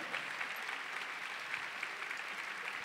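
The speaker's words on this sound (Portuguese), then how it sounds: "Aplauda essa verdade, é a nossa libertação." Congregation applauding during a Catholic Mass homily, a continuous even patter of many hands clapping at a distance, fairly faint and steady with no talking over it.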